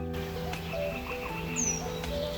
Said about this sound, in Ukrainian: з одної точки можемо почути кілька видів птахів